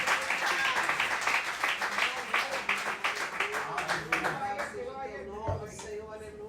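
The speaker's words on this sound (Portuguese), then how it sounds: "Dê uma salva de palmas ao Senhor" Church congregation claps together in a sustained burst of applause, dense rapid hand claps filling the space, with a voice speaking over it toward the end as the clapping thins.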